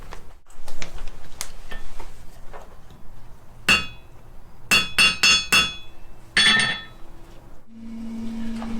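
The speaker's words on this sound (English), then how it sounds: "So I'll just hit it with a hammer." In a blacksmith shop, a few sharp metallic hammer strikes on a metal coat hook: a single blow, then a quick cluster of four ringing hits, then another, with quiet gaps between and a faint hum at the end.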